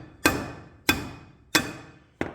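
A steel hammer beats a wheel stud out of the front hub of a 1984 Toyota pickup with a solid front axle, four sharp metallic blows at an even pace, each ringing briefly, up close.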